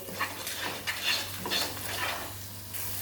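Turmeric, chilli, coriander and cumin powders and salt frying in oil for a mutton curry with papaya and potato, a steady sizzle under repeated rhythmic spatula scrapes, close and alone.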